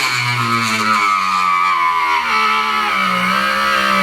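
A pro-grade cordless rotary moto-tool running close and loud, its motor whine sliding down in pitch as it slows, then holding a lower steady drone.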